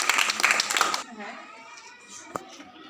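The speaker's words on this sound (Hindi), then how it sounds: "सभी अपने अपने ताली बजाएं" A classroom of children claps together in a short burst of dense, lively applause lasting about a second, then fades into quiet room murmur with one brief sharp knock near the end.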